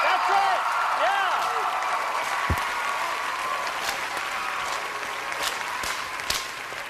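Studio audience applause on a televised talent show, broad and sustained clapping with a few sharp louder claps and cheers, and a host's voice running over it.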